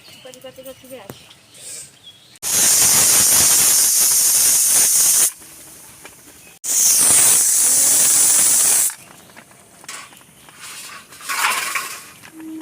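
A pressure cooker cooking cauliflower lets out two long, loud whistling hisses of steam, each lasting a few seconds, with quieter kitchen sounds and a voice between them.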